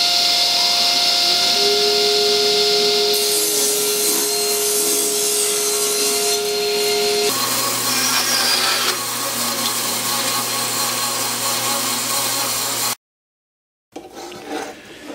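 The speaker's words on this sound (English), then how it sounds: "Here I'm just going to rip a small piece of oak." A power saw whines and rips through a small piece of oak for several seconds, pitch shifting as the blade bites, then cuts off abruptly.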